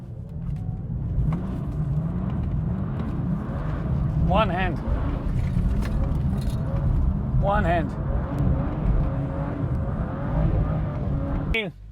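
A BMW M2 (first generation) sports car engine roars and revs continuously with rising and falling pitch while drifting, with a short spoken phrase over it and tire-squeal-like whines.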